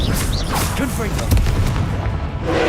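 A Confringo explosion spell in the Hogwarts Legacy video game goes off with booming blasts and bursts amid the game's loud combat, while a player's voice shouts over it.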